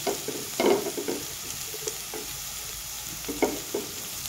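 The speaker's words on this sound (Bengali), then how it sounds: "নারকেলটাকে আমি হালকা একটু ভেজে নেব।" Grated coconut is lightly fried in a pan for vegetable dal. A soft continuous sizzle runs under several distinct spatula scrapes and stirring knocks that come in irregular bursts.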